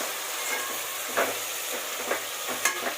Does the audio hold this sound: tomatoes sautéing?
yes